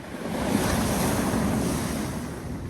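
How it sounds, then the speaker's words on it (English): Sea waves and wind along the coast at Appledore in North Devon, a steady broadband wash of surf with wind buffeting the microphone, loud and continuous throughout. "there's the sea over there"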